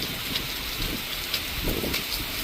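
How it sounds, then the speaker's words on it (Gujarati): A heavy downpour over village fields, with steady rain hiss broken by gusts of wind buffeting the microphone and no speech. "ભાઈ એટલો ધોધમાર વરસાદ પડે છે ને"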